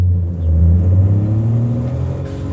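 A van with a stage 3 turbo revs hard in BeamNG, a loud, close, droning engine note that swells and climbs slightly in pitch, with no boost whistle audible.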